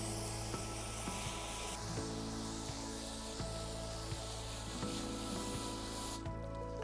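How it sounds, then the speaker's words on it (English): A garden hose sprays water over teak wood to rinse away dirt loosened by a Scotch-Brite pad, a steady close hiss with shifting tone and occasional soft knocks and clunks as the stream moves. "Next step is to use a hose to clean off all of the dirt that we've loosened up with the Scotch-Brite pad."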